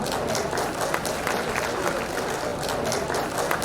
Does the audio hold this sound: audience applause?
yes